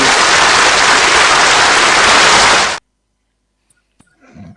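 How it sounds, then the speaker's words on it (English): Round of applause as a dense, loud, uniform burst of clapping that fills nearly three seconds, then cuts off abruptly into silence before faint noises. "round of applause for the news"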